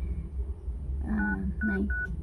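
A phone is dialed, with a few short keypad tones sounding one after another over a steady low hum, close and clear.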